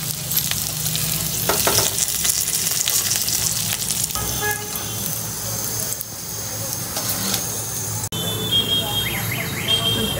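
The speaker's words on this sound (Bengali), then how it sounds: "পুঁয়ের ডাঁটাটাও ভাজা হয়ে গেছে" Mixed vegetables and malabar spinach stalks frying in oil in a wok, a loud continuous sizzle close by with scraping stirring sounds and a sharp metallic clink near the end.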